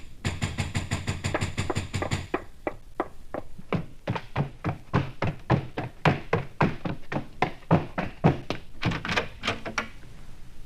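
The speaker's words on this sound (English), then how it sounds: "There came knocking on the street door." Rapid rhythmic knocks on a street door, a quick dense burst at first followed by steadier, separate raps that carry on to the end, close and fairly quiet.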